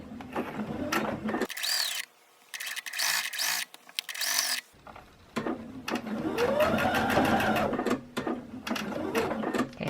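A sewing machine runs in several close bursts while stitching a pocket onto a polo shirt, its rapid mechanical whirr starting and stopping with short pauses and slowing near the end, with someone talking between some runs.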